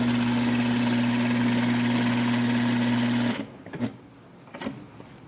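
A Juki DDL-series industrial lockstitch sewing machine runs in one loud, steady whirring burst for about three seconds, then stops, leaving faint soft handling noises.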